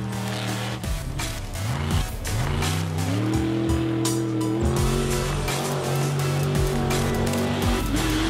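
A 1,000 horsepower Beef buggy off-road racer on BKT R2 tractor tires tears along a mud hill-and-hole track, its engine loud and close with rising and falling revs and gear shifts throughout.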